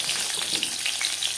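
Pointed gourd pieces dropped into hot refined oil make a dense, continuous loud sizzle with a bright crackling hiss that stays even throughout the short burst, heard close and alone.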